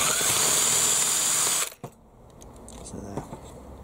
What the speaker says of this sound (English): I'm going to drill that out with a 6mm drill bit